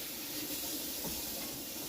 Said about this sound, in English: give it a nice little rinse out here.